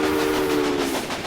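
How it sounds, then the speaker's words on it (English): Trains running on a stretch of track in the railway management video game Railway Empire, a steady close rumble with a sustained horn-like tone throughout, heard alone. "there will soon be 2 trains traveling on the stretch of track between Omaha and Norfolk"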